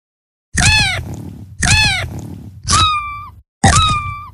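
A cartoon kitten in the video game My Pet and Me gives four loud, close meows in a regular rhythm, each a short grunting mew with silence between.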